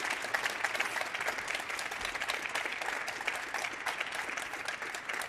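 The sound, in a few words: audience applause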